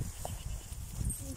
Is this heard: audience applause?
no